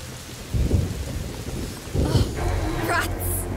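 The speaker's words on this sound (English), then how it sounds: "Did you see that? The lightning bolt." Thunder rumbles twice, low and heavy, over steady rain hissing on surfaces during a storm in the video game A Plague Tale: Innocence, with a brief sharp crackle near the end.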